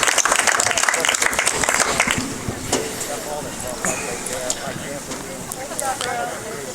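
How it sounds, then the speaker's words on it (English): Outdoor crowd applause at a girls' high school soccer senior night as seniors leave the field, a scattered burst of clapping that thins out, with talk over it and open-field ambience. "Big round of applause."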